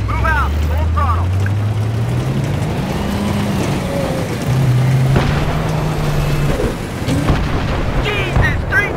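A tank in the Battlefield 3 campaign drives at full throttle, its deep engine drone rising and holding steady and loud beneath radio chatter and shouting voices throughout.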